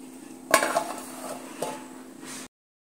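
Stirring egg curry in a pan: a sharp spoon knock against the pan, then a softer scrape and clink, brief and close over a faint background hum.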